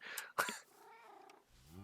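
Cat purring and mewing in the video game Minecraft, short and close, with a brief sharp burst early on and a softer low tone near the end.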